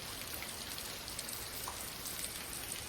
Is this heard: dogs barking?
no